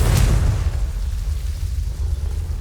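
Confringo spell explosion in the Hogwarts Legacy video game, a single deep booming burst at the start that trails off into a low sustained rumble.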